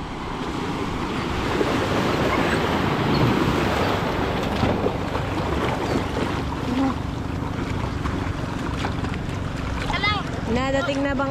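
A boat approaches over the sea, its hum lost in continuous loud waves and wind, while people shout and talk excitedly nearby throughout.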